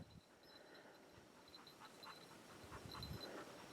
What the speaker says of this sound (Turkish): köpeğimiz Drahtar Robis